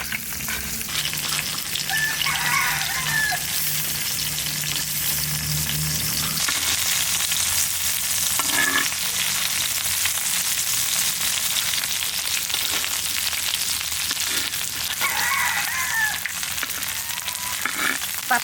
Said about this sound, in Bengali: এটা আবার তেলে ভাজা হবে।